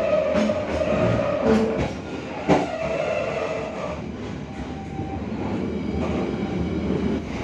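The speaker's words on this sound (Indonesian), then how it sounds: "KA Mataram kembali diberangkatkan dari stasiun Jatibarang jam 23 lebih 41 menit." Steady rumble and rattle of the KA Mataram economy premium train rolling on rails between Jatibarang and Cirebon, heard from inside the carriage with continuous track noise and a few louder clunks, no talk.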